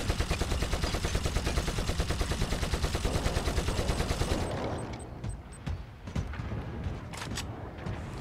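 Heavy weapon in the Warhammer 40k Eternal Crusade video game fires a loud, rapid, sustained burst for about four seconds, then trails off into scattered booming shots and impacts.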